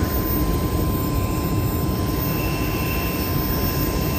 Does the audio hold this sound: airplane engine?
yes